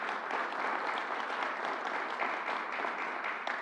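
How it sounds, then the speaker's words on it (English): Audience applause at a public event on combating vaccine hesitancy, a steady, dense wash of clapping from a sizable crowd that holds evenly throughout without talk. "Let's give her another round of applause."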